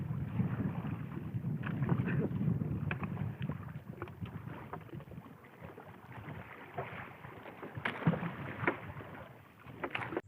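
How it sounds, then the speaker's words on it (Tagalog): A small fishing boat rocks on open water in strong waves, with waves slapping the hull and gusty wind buffeting the microphone throughout, plus occasional knocks. "Medyo gumigewang ang aming bangka kapag tinatamaan ng alon."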